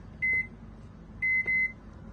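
A microwave oven beeping as it is set for five minutes of cooking: one short electronic beep, then two more in quick succession a second later, clear over quiet room tone.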